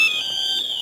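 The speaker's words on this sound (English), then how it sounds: "The alarm's going off." A Pandora Elite car alarm sounds on a Ford Transit Custom van after an unauthorised key unlock, a loud, steady high-pitched electronic tone held continuously without a break.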